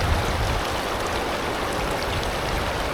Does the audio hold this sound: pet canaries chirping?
no